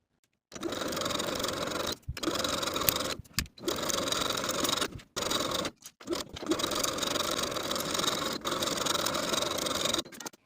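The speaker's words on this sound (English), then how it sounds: "Then I'm ready to edge stitch close to my finishing stitches all the way around the bottom edge from slit to slit." Sewing machine edge stitching around the bottom hem of a capri skirt, running in steady bursts of close, even whirring separated by short pauses, with no talking.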